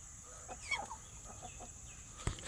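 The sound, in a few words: chickens clucking in a chicken coop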